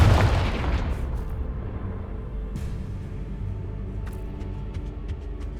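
A Confringo spell explodes in Hogwarts Legacy with a heavy boom at the start that fades into a rolling rumble, followed by scattered faint crackles.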